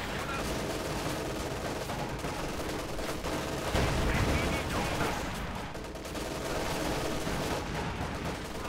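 Dense, continuous battle noise from the video game Company of Heroes 2, with rattling machine gun fire and explosions layered into a loud, unbroken wash.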